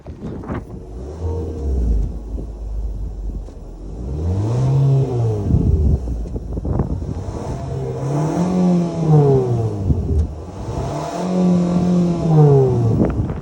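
A 2022 Mitsubishi Outlander Black Edition's 2.5-liter four-cylinder engine revs repeatedly from idle, with several rising and falling throttle blips heard up close and alone.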